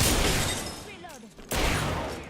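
Gunfire in Apex Legends, bursts of dense crackling shots filling the opening second and returning loudly after a brief quieter gap with a short tonal sweep.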